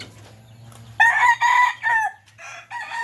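A red junglefowl rooster crows outdoors, a few loud drawn-out calls in quick succession that stand out clearly against a quiet background.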